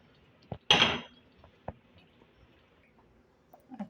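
A spoon stirs a mixture seasoned with cumin powder, black pepper powder, white spices and salt in a cooking pot: a brief scraping swirl, a few light metallic clinks, then quiet.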